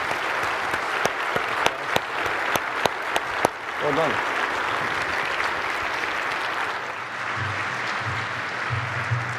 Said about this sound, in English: Please, warm round of applause for our friends.